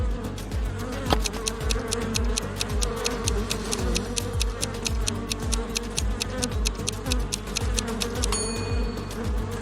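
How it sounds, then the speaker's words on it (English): A swarm of bees buzzes in a dense, continuous drone with a rapid rhythmic pulsing throughout, steady and fairly loud with no voices. "A bear or a swarm of bees?"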